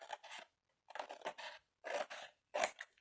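Scissors snip through fabric close up, about four short bursts of crisp cutting crunches separated by brief silent pauses.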